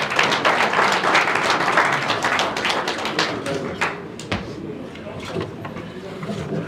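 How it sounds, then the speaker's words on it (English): Audience applause at a public book presentation in a hall, a dense wash of clapping that stays steady and fairly loud throughout, with voices faintly mixed in. "Please let's put our hands together for him as he does a 3-minute review of the book."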